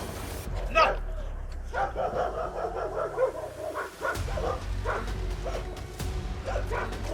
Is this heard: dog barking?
yes